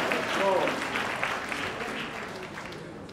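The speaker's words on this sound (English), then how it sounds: "Clap him." An audience applauds at a Jamaican music awards show, a moderate, steady patter of clapping heard from a distance, with voices faintly underneath.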